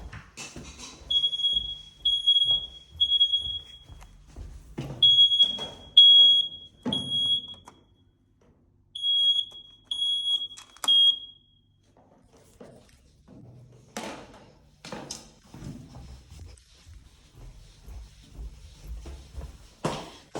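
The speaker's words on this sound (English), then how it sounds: "It's just that fire alarm's going off again." A fire alarm in a tower block flat going off during an inspection, sounding repeated bursts of sharp high electronic beeps in groups, with footsteps and rustling movement around and between them.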